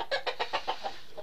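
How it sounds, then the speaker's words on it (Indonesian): Brood hens give a quick run of about seven short clucks in an even rhythm, close and clear, fading slightly toward the end. "Ini ayam-ayam indukan."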